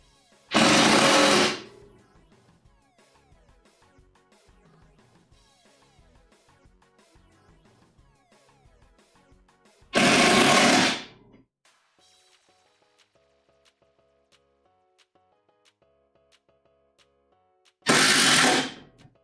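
A power screwdriver drives screws into a shop-built miter saw station in three short, loud whirring bursts spaced several seconds apart, with quiet workshop clatter and light handling noise between them.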